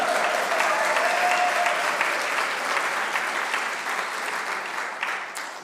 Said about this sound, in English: You can applaud if you wish.